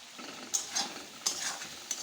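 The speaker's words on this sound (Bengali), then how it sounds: "একটু লাল লঙ্কার গুঁড়ি দিয়ে আবার নেড়ে চেড়ে যে আলু আর মটরটা এই যে এখন দিয়ে দেব।" A spoon scrapes and stirs through potatoes and peas frying with red chilli powder in a pan, giving a steady sizzle broken by a few sharp clinks against the metal.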